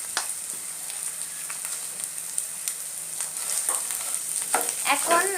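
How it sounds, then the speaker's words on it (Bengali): Boiled potato being stirred with spices in a pan for village-style potoler dorma, giving a steady close frying sizzle with scattered scraping stirs and small clinks, no talking. "এখন আলুটার সাথে ভালোভাবে মশলা মিশিয়ে নেব"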